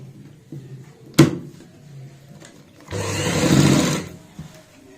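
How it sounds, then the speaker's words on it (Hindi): A sewing machine stitches the shoulder seam of a garment in one steady burst of about a second, after a sharp click; quiet handling noises come before and after, and no one talks. "दूसरी साइड भी सेम इसी तरीके से सिलाई लगाएंगे।"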